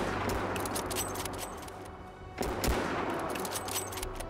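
Rapid bursts of video game gunfire crackle over a steady background hum, with one louder volley near the middle.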